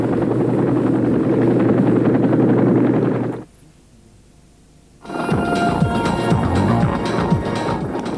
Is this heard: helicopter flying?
yes